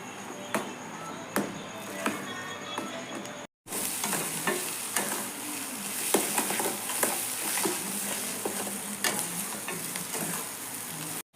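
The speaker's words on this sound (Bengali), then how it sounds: "মশলা আলু খুব ভালো করে কষায় নিচ্ছি" Spiced potatoes and tomato sauté in a pan, a continuous sizzle broken by frequent spatula scrapes and knocks against the pan, close up, with a brief gap partway through.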